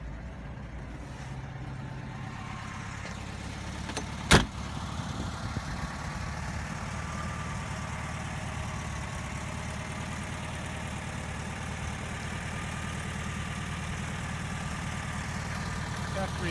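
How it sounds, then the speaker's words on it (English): A split-window VW bus engine idles steadily and close by, a continuous low, even rumble with one sharp brief click early on, and no talk over it. "turn the key, no gas, fires right up"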